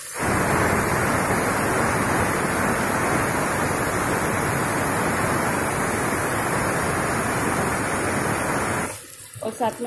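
Sliced onions and green chillies sauté in a hot pan, a loud, continuous close sizzle that holds steady before cutting off near the end, with a little talk following.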